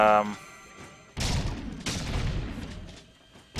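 Guns fire in the video game Jak II: two heavy, booming blasts about a second apart, each trailing into a rumbling decay, after a short tonal game sound.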